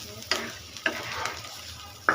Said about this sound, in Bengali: এখন আমি কাঁচামরিচ ভাজিটা পুরো নামিয়ে ফেলবো